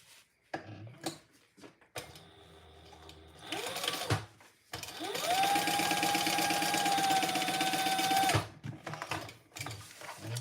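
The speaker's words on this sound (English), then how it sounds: "Now we're just going to really barely stitch the top of these closed." A sewing machine stitches the top of a fabric piece closed, running in short bursts and then a long steady whirring run of needle and motor, close and alone, with no voices.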